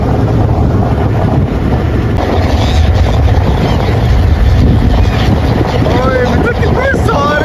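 A cool outdoor breeze in Dubai buffets the microphone with loud, continuous rumbling wind, and bird chirps rise near the end.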